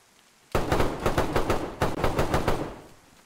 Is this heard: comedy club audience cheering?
no